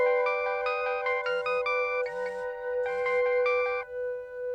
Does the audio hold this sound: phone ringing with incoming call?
yes